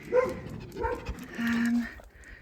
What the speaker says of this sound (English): That's the noisy dog from the water behind me.